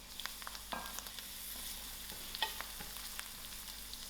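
Prawn biryani spices and garlic sizzle and fry in a pan, a soft steady crackle with scattered pops and a few stirring clinks, faint and close, with no talk.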